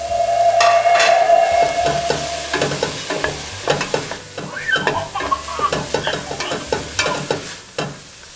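Garlic sizzles in a pan for a sauce while a utensil stirs it, sharp scraping clacks landing in an irregular rhythm over a steady frying hiss, close and fairly loud.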